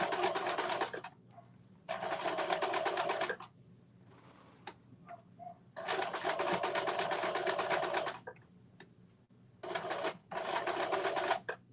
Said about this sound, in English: I am just sewing the pocket on